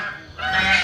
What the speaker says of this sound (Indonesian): Ini suara angsa ya pemirsa.